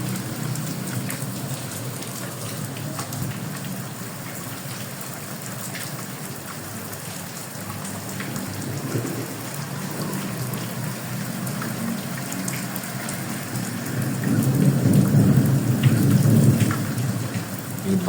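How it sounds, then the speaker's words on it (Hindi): Heavy rain pours steadily in Faisalabad while low thunder rumbles through it, swelling into a louder, nearer roll toward the end. "बड़े ज़ोर से बादल गरजा था अभी, और अभी फिर भी गरज रहे हैं।"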